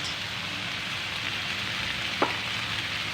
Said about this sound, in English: because our ingredients are sauteed, we are going to add 1 tablespoon of tomato paste